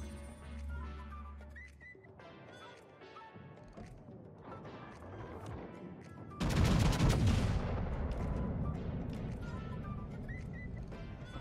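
Main guns of the Tier X American battleship USS Montana fire a salvo in World of Warships, a sudden heavy blast midway that settles into a sustained rumble over background game sounds, with no voices.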